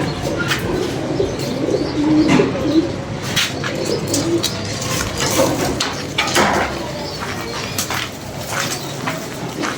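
Pigeons kept close by coo in soft, low, repeated murmurs over a steady hum, with occasional higher chirps and brief wing flutters mixed in.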